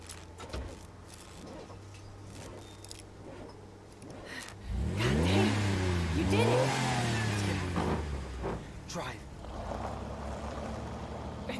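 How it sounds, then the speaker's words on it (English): An old junker car's engine in Life is Strange 2 revs up and climbs in pitch for a few seconds, fairly close, then settles into a steady running drone, with no talk. "we gotta keep quiet, so they rev the engine"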